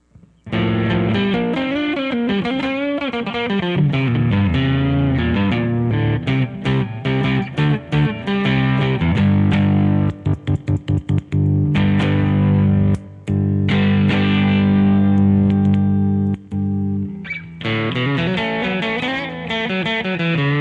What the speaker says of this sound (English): let me put a little distortion on here.